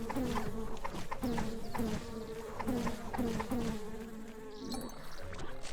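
Bees and a queen bee buzz in the video game Secrets of Grindea, a loud, continuous drone that pulses in regular surges about once a second, with no talking over it.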